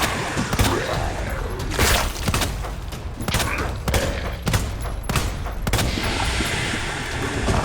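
Rapid bursts of gunfire from the video game Resident Evil 2, shots pumped into a wall in a steady, loud volley of sharp cracks and booming thuds, about a dozen blasts over several seconds with no talk.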